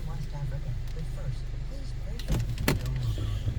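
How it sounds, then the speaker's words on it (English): A power sunshade motor in a 2015 Mercedes-Benz C300 runs inside the cabin with a steady low electric hum, and a few sharp clicks and knocks come near the end. "This does have the power sunshade up here, as well as sunroof."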